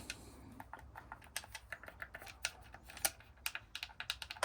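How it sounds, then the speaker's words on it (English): Buttons on a Fanatec DD Pro sim racing wheel clicking up, down and pressing in, a quick irregular series of sharp plastic clicks heard close against a quiet room. "These do not turn, but they click up and down. They press in."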